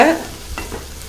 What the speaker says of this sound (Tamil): தக்காளியோட நல்லா வதக்கி விட்டுருங்க